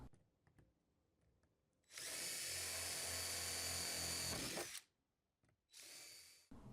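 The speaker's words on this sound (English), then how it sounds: "Just be sure to drill holes in the bottom so water can drain out." A power drill bores holes through the bottom of a plastic storage container, a loud, close whine held for about three seconds, then a second shorter burst after a pause.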